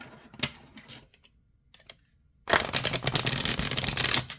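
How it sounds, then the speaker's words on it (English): Calandra tarot cards being shuffled: a few soft taps and a faint riffle early on, then after a quiet gap a dense, steady run of crisp papery flicks and snaps lasting nearly two seconds, close and fairly loud. "Let's see how it shuffles."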